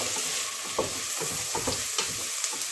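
Potatoes and carrots stirred in hot oil in a pot, a constant sizzle under soft rhythmic scraping of the spoon, close and steady.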